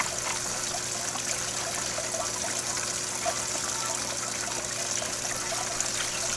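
Water runs steadily from a hose into a garden planter during a heat wave, a continuous close trickling and splashing with a faint low hum underneath and no voices.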